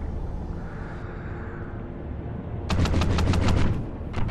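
Muffled underwater gunfire from the video game Call of Duty Ghosts, a rapid burst of repeated shots near the end following a quieter stretch of dull ambient rumble.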